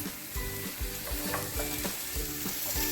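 Mixed peppers, green beans and aubergine frying in a pan, a steady close sizzle with rhythmic stirring scrapes throughout and no voice.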